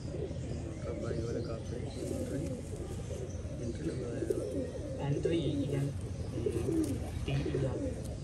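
Pigeons coo in soft, repeated low calls, mixed with a few chirps and background chatter from people nearby.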